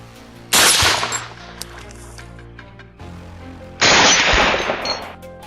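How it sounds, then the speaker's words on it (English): Two loud, close bursts of rapid rifle gunfire during a night wild boar hunt, each followed by a decaying echo, with a few lighter shots and clicks in the gap between them. "The sharp, thunderous reports from my rifle and my team's guns signaled the fall of more invaders, one after another."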